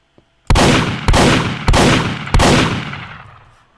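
A shotgun in Minecraft's TF2 Stuff mod (1.12.2) fires four loud, close blasts spaced about half a second apart, the last one ringing out into a fading tail.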